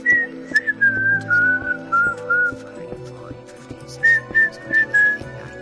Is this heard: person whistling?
yes